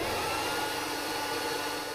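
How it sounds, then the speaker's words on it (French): A vacuum cleaner runs steadily at close range with a constant broadband whir, unbroken and alone, with no talking. "surtout ne pas craindre l'aspirateur."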